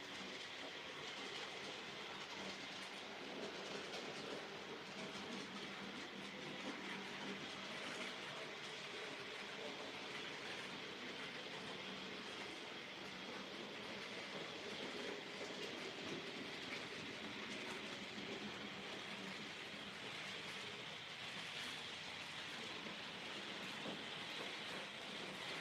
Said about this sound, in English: just watching some trains go by in Hollybush